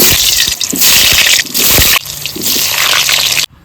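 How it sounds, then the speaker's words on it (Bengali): Cooking oil poured into a pan before meat goes in, heard as a close, loud liquid gush and splashing in bursts, with short pauses before it cuts off abruptly. "এবার মাংসটা করার জন্য তেল দিয়ে দিচ্ছি"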